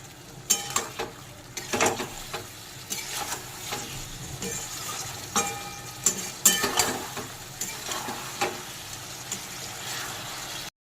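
A cauliflower and potato curry is stirred in a pan, with scraping spoon strokes in uneven bursts over a soft ongoing sizzle, close and fairly quiet.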